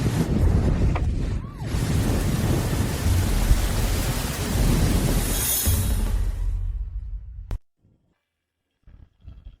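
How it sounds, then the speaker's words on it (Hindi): Heavy rain roars steadily with deep rolling thunder for several seconds, then cuts off abruptly into near silence with a few faint sounds. "बिना बताए बारिश कैसे होने लगी?"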